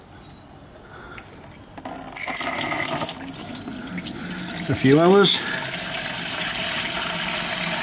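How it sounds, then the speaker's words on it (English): Water rushes from the fresh water tank of an RV after cleaning, a steady hissing gush that starts partway through and grows louder, with someone speaking briefly over it and a short squeaky tone near the end. "So we'll drain the fresh water tank."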